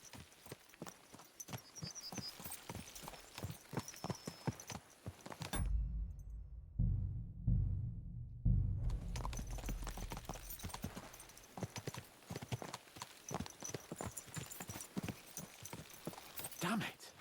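Horses' hooves clip-clopping at a riding pace in Kingdom Come: Deliverance 2, a dense steady rhythm that breaks off briefly for a low rumble, then resumes with talk and background sound over it.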